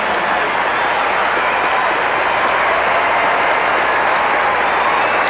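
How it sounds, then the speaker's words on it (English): Crowd applause at an Olympic show jumping venue, a loud, sustained and dense roar of clapping and cheering from a large stadium audience that holds steady throughout. "There is no venue where the applause is as explosive as here."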